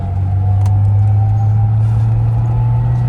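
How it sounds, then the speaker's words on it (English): Engine of a 1985 Bitter SC heard from inside while driving, a steady low drone holding constant and loud throughout with no revving swells or stutter. "Engine pulls smoothly. There's no stuttering in the rev range at all."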